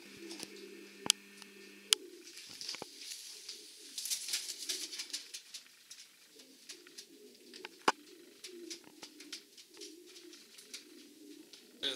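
Pigeons coo in soft, repeated low rolling calls, with occasional sharp clicks and fluttery scuffles nearby.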